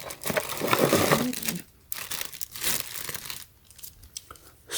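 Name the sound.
taking cardboard packing out of security light box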